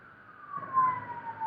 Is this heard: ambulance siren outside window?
yes